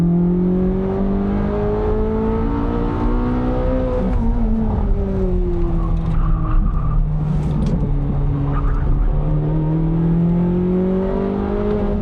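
A Corvette on a race track in sport mode drones loudly from inside the cabin, engine pitch rising and falling steadily as the car yaws through corners, with faint tire noise and no talk.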